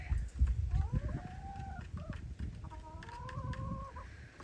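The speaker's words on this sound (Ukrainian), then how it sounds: "Свій півник, який кукурікає." A rooster crows twice in long, drawn-out calls over a busy village farmyard background with low rumbling and clatter.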